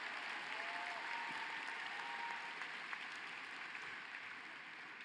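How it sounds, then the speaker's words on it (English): Graduation audience at a social work commencement clapping, a dense, steady wash of applause from a large crowd that continues evenly throughout and eases slightly toward the end. "We love a clap."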